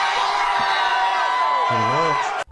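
An audience booing and shouting together at a heated public meeting, a sustained, fairly loud roar of voices with one louder wavering shout near the end before it cuts off.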